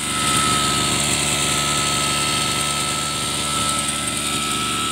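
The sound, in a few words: Mitsubishi TU33 33cc grass cutter engine with turbo running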